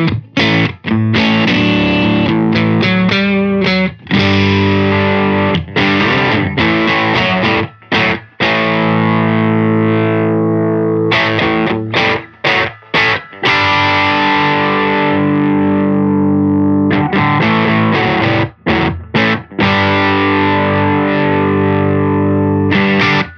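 An instrument played through the drive effect of a Hologram Chroma Console pedal, giving loud, gritty, saturated sustained notes and chords with brief breaks between phrases, no voices.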